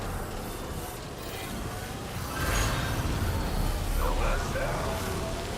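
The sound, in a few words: rain in video game Death Stranding 2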